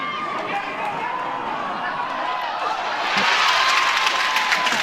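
Crowd at a college softball game reacting to a foul ball behind the plate, a broad murmur of voices swelling louder in the final seconds, with steady crowd noise throughout.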